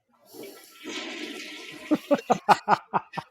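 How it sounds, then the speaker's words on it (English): A toilet flushing close by: a rising rush of water swells, then breaks into a quick series of rhythmic, gurgling pulses as the bowl drains. "right at that time, the toilet flushed"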